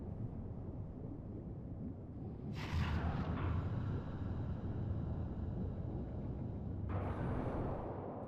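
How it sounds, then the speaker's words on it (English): Torpedo explosion in the video game Ghost Trick, a deep, muffled underwater rumble that swells twice, with a soft hiss over a low roar, fairly faint throughout. "So that's the cause of that giant explosion."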